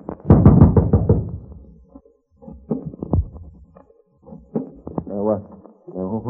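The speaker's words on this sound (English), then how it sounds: "Knock on the door." A handful of dull knocks land in two small clusters, mixed in among muffled voices and quiet pauses.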